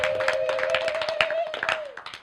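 An audience claps for a Member of Parliament at a JICA building guidelines event in Tanzania, a quick patter of many hands under a voice, thinning out at the end.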